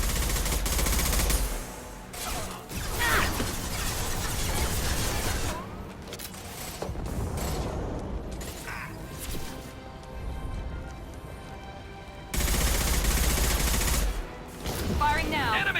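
Gunfire in the video game Mass Effect 2: sustained bursts of automatic fire and heavy shots crackle through a busy combat scene, loud and dense with brief lulls, with voices speaking amid the shooting.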